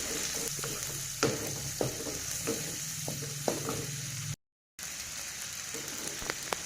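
A blended sambal of red chili, bird's eye chili, tomato, garlic and shallot fries in a pan with a steady loud sizzle, with occasional stirring clicks and a brief dropout near the end.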